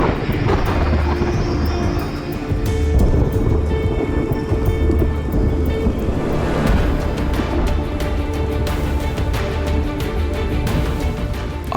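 Heavy tropical rain pours steadily on an Indonesian island while deep thunder rumbles and rolls beneath it, a loud, dense downpour that continues without pause from start to finish.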